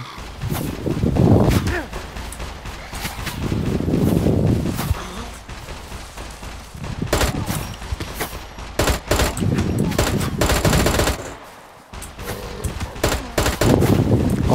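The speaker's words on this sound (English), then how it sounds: "You're getting shot at by the big old mech." Mech opening fire on the player in the survival game SCUM, loud bursts of automatic gunfire in repeated volleys across the stretch, mixed with rumbling blasts and a voice talking over it.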